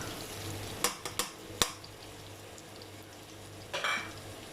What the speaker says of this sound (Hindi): मिक्स करेंगे इसको, साथ साथ मिक्स करते जाना है आपने ताकि मसाला जो है वो बिल्कुल भी जले नहीं